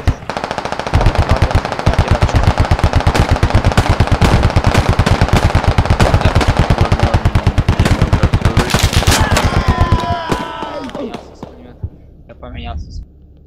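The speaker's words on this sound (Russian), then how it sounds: "Он опять стреляет?" Rapid automatic gunfire from the video game Squad rattles loudly and continuously for about ten seconds, then breaks off into scattered single shots and mechanical clatter, with a voice speaking briefly underneath.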